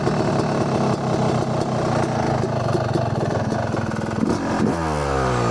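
A dirt bike engine runs steadily during a ride, a loud, close, continuous buzzing drone with small throttle changes and a slowing, dropping note near the end.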